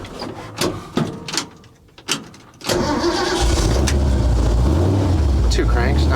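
Harley XLCH chopper with electric fuel pump and no choke, cold-started at 25 degrees: a few brief cranking bursts, then the engine catches and settles into a loud, steady, close-up rumble.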